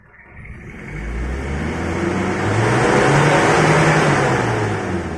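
Car engine fitted with a tuned aftermarket exhaust muffler revved toward 5,000 RPM, a loud close drone that climbs in pitch and holds steady with a deep exhaust rumble, no talking.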